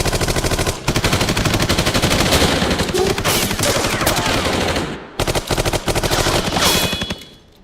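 Bursts of machine gun fire in a film battle scene rattle loudly in rapid, continuous volleys, briefly dropping out twice before the firing resumes at full intensity.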